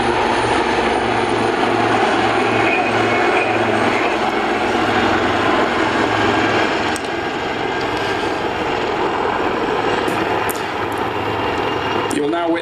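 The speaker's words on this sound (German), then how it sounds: "Witness the only display in the world where aircraft fly backwards in formation at over 50 knots." Two AgustaWestland Wildcat HMA2 helicopters fly a formation display at the ILA Berlin air show, a loud constant rotor and turbine drone with a pulsing low beat, heard close, while an announcer talks over the public address.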